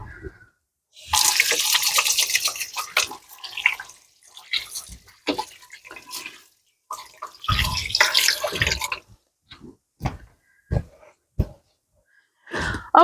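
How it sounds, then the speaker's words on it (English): Hands are washed under a running kitchen tap in bursts of splashing water, with gaps and short drips between the louder rinses, close and with no talk. "So let me wash my hands real quick."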